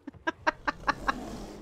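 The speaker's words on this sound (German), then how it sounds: "Ja, das war so ein kleines Vögelchen, wo du abgeschossen hattest" A small bird in the World of Warcraft video game gives a run of six evenly spaced, chirpy clucking calls that fade slightly toward the end, heard clearly without any talking.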